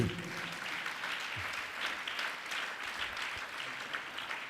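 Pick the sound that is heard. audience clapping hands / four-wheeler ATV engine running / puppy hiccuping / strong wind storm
audience clapping hands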